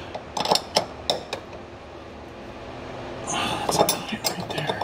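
A torque wrench tightening a front strut nut on a 2013 Dodge Challenger R/T, giving a series of close metallic ratcheting clicks and clinks, with a denser run of clicks near the end.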